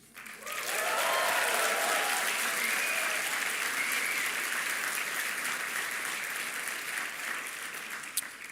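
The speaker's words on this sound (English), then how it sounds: "Just from the applause, I realized that Caroline worked really hard." Sustained applause from a large audience at a university commencement ceremony, a steady wash of clapping that swells quickly and holds evenly before tapering slightly at the end.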